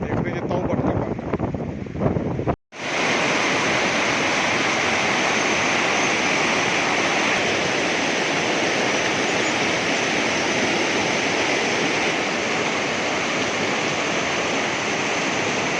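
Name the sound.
Neelum river water flowing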